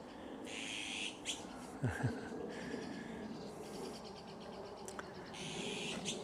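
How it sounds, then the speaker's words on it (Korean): A small bird calls outdoors in a few short, bright chirps against a steady background of insects and ambient outdoor noise, with no talking. "저 이쁜 새가 또 나타났네요."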